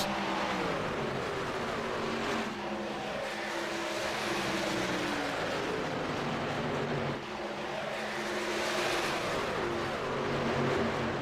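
Race cars in iRacing at Talladega pull out of pit road, their engines droning and rising in a dense, continuous roar as several cars accelerate and sweep past, swelling twice across the stretch.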